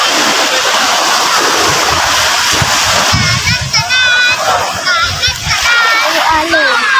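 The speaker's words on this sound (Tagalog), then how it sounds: "May alon." Sea waves splash and wash nearby in a continuous rushing roar, while children chatter and call out over the water.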